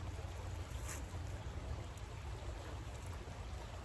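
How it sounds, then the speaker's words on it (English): Steady broadband flowing water, like a stream or gentle surf, runs continuously and evenly throughout with a low rumble underneath, moderately loud and unbroken, with no voices present. "just like the water you hear flowing"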